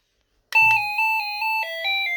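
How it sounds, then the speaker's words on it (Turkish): A doorbell installed on a bedroom door chimes with a series of clear, ringing tones, each note sustained and stepping down in pitch, loud and close with no talking. "Ama sanki bunda tek bir zil sesi yok da Efe."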